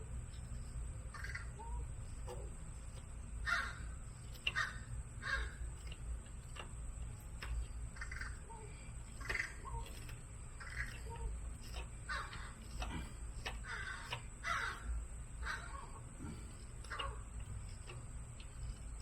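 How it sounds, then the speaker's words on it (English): A crow caws again and again in a quiet outdoor setting, sharp calls scattered across the stretch over a low background rumble, with a faint steady ticking throughout. "There he goes, calling now. That's the kind of crow we're used to."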